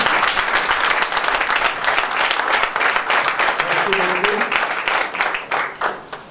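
A church congregation at a French-language Christian convention bursts into sustained applause and cheering, loud and dense at first, then thinning into scattered claps by the end, with voices mixed in.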